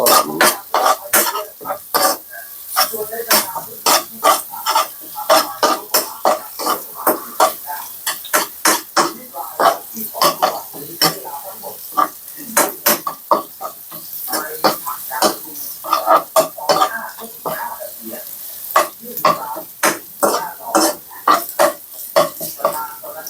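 Chopped garlic stir-fried in a pan gives a busy run of sharp, close scraping and clattering spatula strokes, irregular in rhythm, over a soft sizzle, with no talking.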